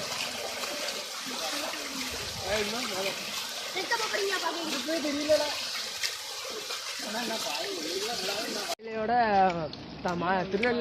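Floodwater after heavy rain runs steadily into farm fields, a continuous close rushing wash under someone talking, cutting off near the end as his voice carries on alone.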